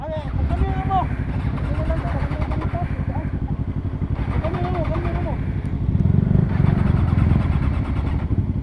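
A motorcycle engine runs steadily nearby with a constant rumbling idle and a slight swell partway through, while people talk over it.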